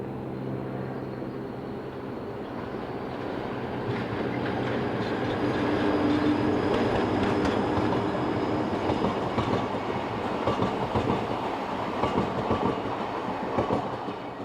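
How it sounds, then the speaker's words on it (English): An Austrian class 1142 electric locomotive pulls away with an evening stopping train, its steady rumble and wheel clatter building slightly and holding close throughout, with no voices. "1142651 departs with an evening stopping service for Vorgl"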